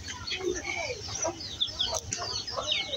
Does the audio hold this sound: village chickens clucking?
yes